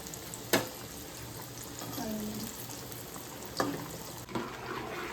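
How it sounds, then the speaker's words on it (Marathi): Alu vadi, rolls of colocasia leaf, fry in a pan with a faint, steady sizzling hiss broken by a few sharp pops and clicks. "फ्राय चालले."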